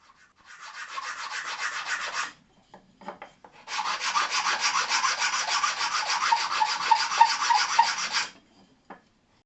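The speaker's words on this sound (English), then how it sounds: "The bits I can't sand on the belt sander I finish with a sanding stick." A sanding stick rubbed across wood, giving two sustained rasping passes, one short and one longer. The strokes are close and even, with a brief pause and a few light taps between them.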